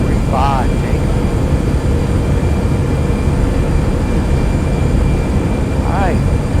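Steady broadband jet engine roar from an airliner taking off from runway 35 at Lyon in a flight simulator game, loud and continuous throughout, with brief radio-style voice chirps near the start and end.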